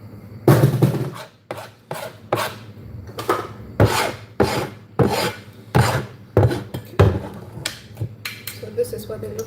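Ginger, garlic and scotch bonnet pepper are mashed into a paste with a series of close, rhythmic pounding and grinding strokes, roughly a dozen sharp hits, with occasional talk between them.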